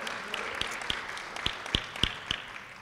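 Scattered audience applause at an evening talk on addiction and the developing brain, a few distinct claps ringing out over a soft, steady background of clapping, moderately faint and with no talking.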